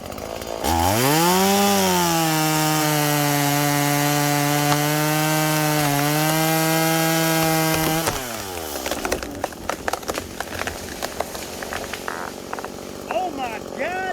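Chainsaw making a hinge cut into a dying tree, the engine revving up sharply and holding a steady high whine for several seconds before dropping off into crackling wood and rustling, with speech during the cut.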